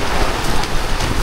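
Rain falling at a campsite under an awning, a dense steady hiss of drops with a windy rumble, loud and close with no voices.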